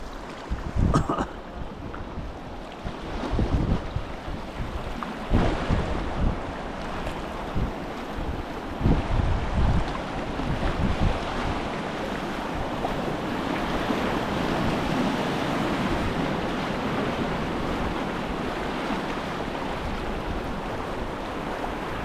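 River waves slapping and rushing around a canoe on Saskatchewan's Porcupine River, with gusts of wind buffeting the microphone; irregular splashes early on give way to a steady, close roar of moving water, no voices.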